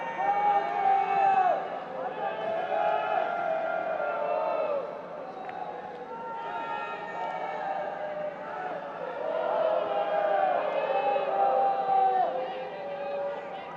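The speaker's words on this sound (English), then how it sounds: "And they've been in good voice despite the rain, those BG Pathum fans." BG Pathum United football fans keep up steady crowd noise in the rain at an AFC Champions League group match against Jeonnam Dragons, a continuous wash of distant chanting and cheering that swells and dips.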